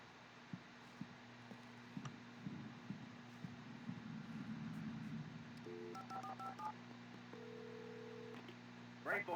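A phone keypad sounds in Alan Wake at a gas station as a call for help is placed, with several short steady dialing tones in sequence over a low hum and ambient game sounds, a voice briefly heard.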